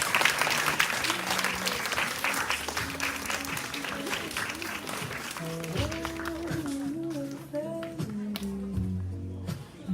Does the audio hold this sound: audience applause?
yes